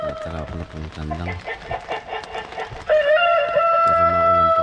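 A rooster crows loudly and close on a rainy early morning at a campsite, its strained, wavering call rising in the second half after some lower clucking-like sounds.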